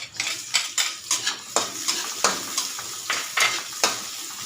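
Garlic then onion hitting hot oil in a heated pan, with a steady sizzle broken by repeated scraping stir strokes of a utensil against the metal, close and fairly loud, with no voices.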